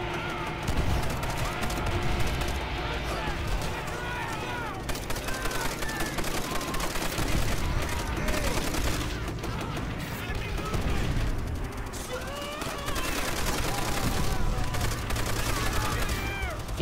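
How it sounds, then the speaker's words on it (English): Browning M1919 machine gun fire in Call of Duty: World at War, a loud, sustained stream of rapid gunfire and battle noise with explosions, continuing nearly unbroken throughout while someone talks over it. "I do like this gun though. Browning M1919."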